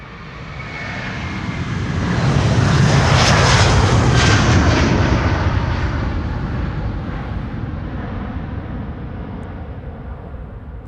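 An airplane passes overhead at Amsterdam Schiphol Airport, its engine roar swelling loudly to a peak after a few seconds and then slowly fading as it moves away.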